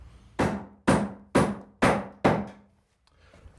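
Five sharp hammer blows, evenly spaced about half a second apart, drive timber blocks into wooden wall framing, each a close, solid knock with a short ring before quiet.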